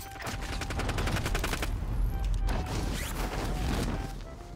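Rapid automatic gunfire in the battle royale game Call of Duty: Warzone. Dense bursts of shots run almost without pause, with crashing impacts over a loud, rumbling background and no clear speech.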